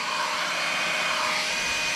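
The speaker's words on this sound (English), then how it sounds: "Over 7 minutes running that hairdryer on high" A small hairdryer runs on high power off a 700 watt portable power station, giving a loud, steady, unbroken whoosh with a faint high whine.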